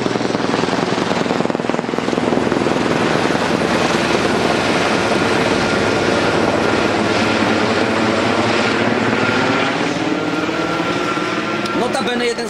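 A military helicopter roars close overhead, its loud rotor and engine drone steady and constant throughout.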